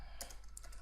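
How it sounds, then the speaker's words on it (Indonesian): Light typing on a computer keyboard while working in a PowerPoint presentation: a few quick, soft key clicks at an uneven pace, close and quiet over a steady low background hum. "Kita ketik di sini"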